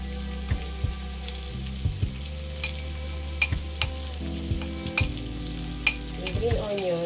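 Ginger and onion stir-fry in a hot pan for shrimp fried rice, giving a continuous sizzle broken by repeated sharp clicks and scrapes of a spatula against the pan.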